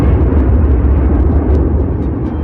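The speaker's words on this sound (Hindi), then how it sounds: "बीच के इस भयंकर दबाव के कारण एक विशाल विस्फोट हुआ" Huge explosion sound effect marking the birth of the Sun, a sustained deep rumbling roar that fills the low end and stays loud and steady with no let-up.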